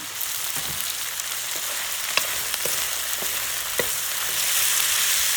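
Pork and holy basil stir-fry in a hot pan, a continuous loud sizzle broken by scattered scraping clacks of the spatula against the pan, with the frying growing a little stronger toward the end.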